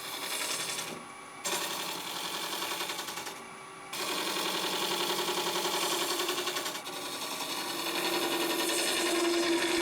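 A drill bit boring into a woodturned vase of pine cone and epoxy resin gives a steady, buzzing cutting drone, briefly dropping off twice early on before running on loud and continuous.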